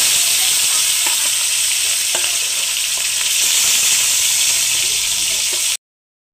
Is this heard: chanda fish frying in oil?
yes